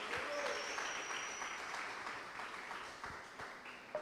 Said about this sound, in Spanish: Por favor, del aplauso fuerte al Señor.